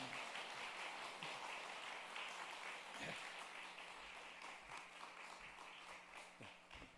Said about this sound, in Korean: 목사님 감사합니다 하는 마음으로 다 같이 박수로 맞이하도록 합시다